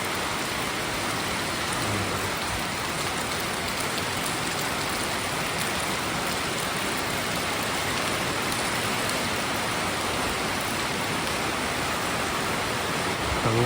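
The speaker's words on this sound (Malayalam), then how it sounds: "സൗണ്ട് കേട്ടോ ഗൈസ് മഴയുടെ." Heavy rain falling at night, a dense, steady hiss of downpour that holds evenly throughout with no pauses or voices.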